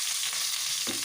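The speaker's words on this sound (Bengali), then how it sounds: "তারপরে আলুর যে তেলটা ছিল সেই তেলটাতে আমি ফুলকপির তরকারিটা করে নেব" Cauliflower curry frying in oil left over from frying potatoes gives a loud, steady sizzle throughout, with a brief stirring scrape near the end.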